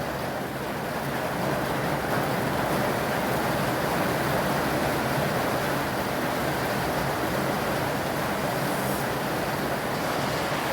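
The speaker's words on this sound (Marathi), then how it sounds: "बघा पावसाचे किती मोठे ठेंब पडतात पत्र्यावर टप टप टप आवाज येतो" Heavy rain pours onto a tin roof in a dense, steady roar that stays loud and unbroken throughout, with no voices over it.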